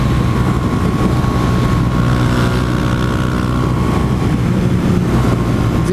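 A white Yamaha Fazer 250 motorcycle with an aftermarket exhaust and iridium spark plug runs at top speed, around 150 km/h. Its engine drones steadily under loud, constant wind rush.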